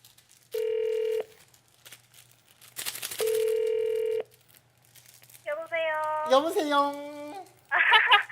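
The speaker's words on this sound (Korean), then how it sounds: "제가 직접 한번 전화를 걸어보도록 하겠습니다" An outgoing phone call is placed during a live Korean news show: steady electronic tones, each about a second long, sound apart, followed by warbling ringing sounds and a final short burst.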